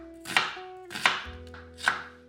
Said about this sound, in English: Slice up half an onion,